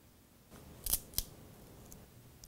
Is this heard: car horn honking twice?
no